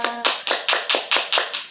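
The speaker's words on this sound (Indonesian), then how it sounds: "Tepuk tangan untuk semua." A third-grade class claps in unison, eight crisp, rhythmic claps in quick succession, loud and close, after a brief sung tone at the start.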